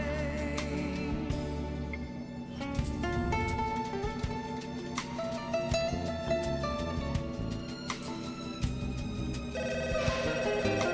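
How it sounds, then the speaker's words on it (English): An old-style telephone bell rings as train doors close in the Rogue Galaxy video game, a steady trilling ring over dense game music and background sounds throughout. "Why does the train have an old phone sound for when the doors are closing?"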